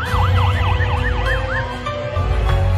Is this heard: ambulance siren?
yes